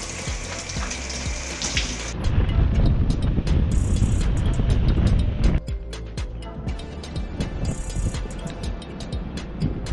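Running water in a hot shower, a steady loud hiss and splatter close by that surges heavier for a few seconds before settling back.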